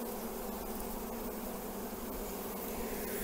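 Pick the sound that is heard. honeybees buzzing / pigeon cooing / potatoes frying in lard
honeybees buzzing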